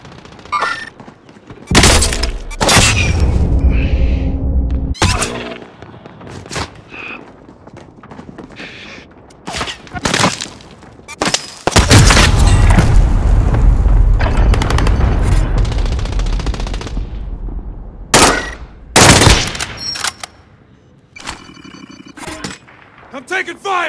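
Bursts of game gunfire in Call of Duty: Modern Warfare, loud close volleys and rapid automatic fire in irregular clusters, with battlefield voices calling out between the shots.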